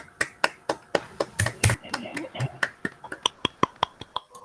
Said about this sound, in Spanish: Un aplauso virtual.